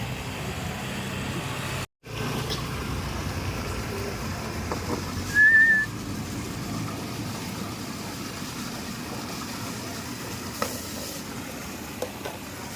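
One short, fairly faint whistle to call dogs rises briefly over steady outdoor background noise.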